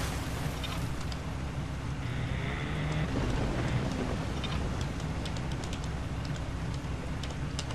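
A motorboat engine in Resident Evil 4 hums steadily under a wash of water and wind noise, with occasional small splashes and clicks, no voices.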